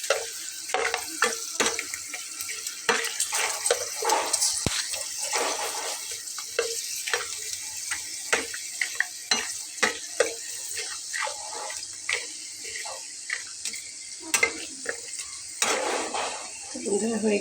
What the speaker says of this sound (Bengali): তো এটা কেনা চিপস, আজকে প্রথম ভাজলাম